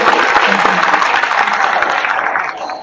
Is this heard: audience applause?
yes